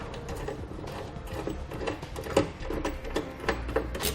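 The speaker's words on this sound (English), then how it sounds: "Now we'll get our bolt started in our nut zert there." An M8 bolt being threaded into a nut plate on a bracket, mounting Westin PRO TRAXX oval nerf bars on a 2014 Ram 2500: a steady stream of small metallic ratcheting clicks and scraping, close and continuous, with a few sharper knocks.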